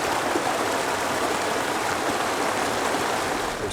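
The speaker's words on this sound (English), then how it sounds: "I realized we have a stream right over there" A mountain stream flows beside a backpacking campsite in Colorado's Indian Peaks Wilderness, giving a steady, close rushing wash of water that holds an even loudness throughout with no voices.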